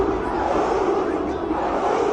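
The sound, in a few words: stadium crowd shouting in a football video game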